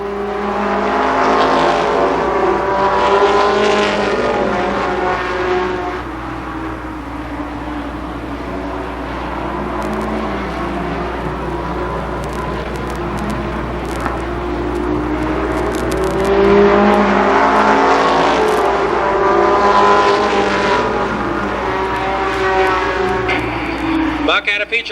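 Race cars roar around the oval at Columbus Motor Speedway during a heat race at the 1992 Firecracker Championship, engines droning continuously and swelling as the pack passes, with a commentator talking throughout.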